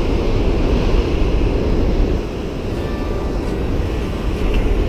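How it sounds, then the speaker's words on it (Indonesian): Large ocean waves break and roar continuously on the shore during a casting fishing trip, a loud, steady wash of surf filling the whole stretch with no pause. "ini ombaknya lumayan besar, masih lumayan besar ini"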